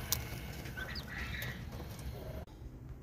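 Jumbo quail housed in an outdoor hutch give several short, faint, chirping calls over a steady background hum, with no talking.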